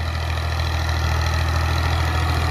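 A New Holland Ghazi 65 HP tractor, 2022 model, idles with a steady low diesel rumble and constant throb, close and loud, unchanging throughout with no talk.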